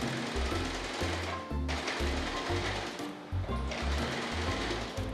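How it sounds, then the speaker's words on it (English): A sewing machine stitches a pocket onto a fabric apron, running in rapid mechanical bursts with short pauses between them, loud and close with no voices. "The last thing you do is sew onto the apron your little pocket."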